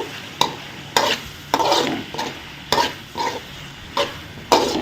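Drumsticks and potatoes being turned and fried in a pan for a spicy curry: about eight sharp scraping stirs at uneven intervals, each followed by a brief sizzle, close up with no speech.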